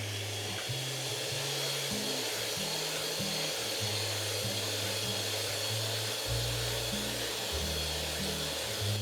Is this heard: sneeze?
no